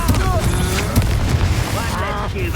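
A Confringo blasting spell explodes with a heavy boom in the Hogwarts Legacy video game, short crashing bursts over game music and battle effects, with voices shouting across the fight.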